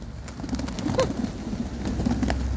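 Pigeons cooing in a flock, with several soft, throaty coos close by over a steady wash of background noise.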